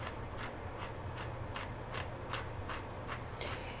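Pepper ground into a heating pan for chicken enchiladas, a rhythmic, close crunching and ratcheting of a grinder repeated about ten times, steady and alone with no talk.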